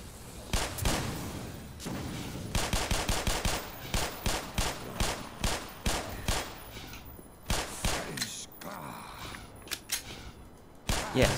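Soldiers fire weapons in the shooter game Black Mesa: repeated sharp gunshot bursts and rapid automatic volleys ring out loudly in uneven clusters across the whole stretch, with brief pauses between them.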